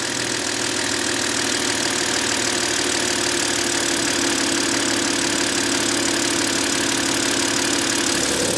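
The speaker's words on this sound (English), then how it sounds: "if we fire the engine up, you can see that engine management light is gone, and the engine itself is running sweet" BMW N52 engine in a 130i idling smoothly after a crankcase ventilation heater repair, a steady close-up hum with a fine rapid ticking, continuous for several seconds with no talk.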